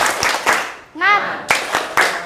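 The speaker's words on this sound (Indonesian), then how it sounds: "Oke, kita tepuk semangat dulu yuk." A group in a classroom-style Islamic religious education lesson claps in a rhythmic spirit clap, sharp hand claps landing in an even pattern, with a voice briefly calling out between them.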